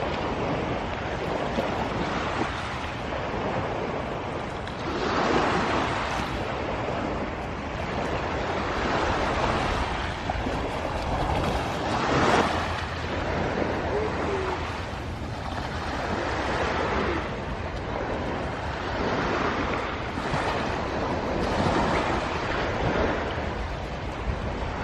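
Sea waves washing onto a shore, a continuous surging roar with repeated swells and wind over the water, steady and fairly loud throughout with no voices.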